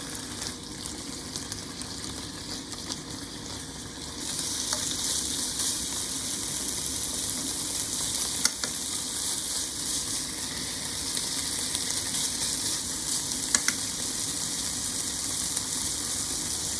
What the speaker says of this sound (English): Fry until the moisture is gone.